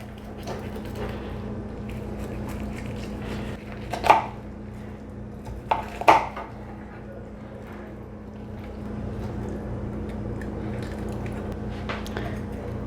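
A knife slicing roasted turkey close to the bone, heard as a couple of soft cutting taps and clicks against a board over a low steady background hum, faint and sparse.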